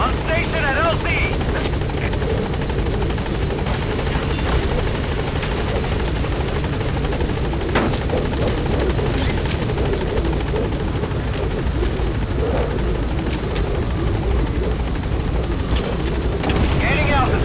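Helicopter in Metal Gear Solid V: The Phantom Pain arriving at a landing zone, a loud, steady rotor thump and turbine roar running throughout, with radio-style speech over it.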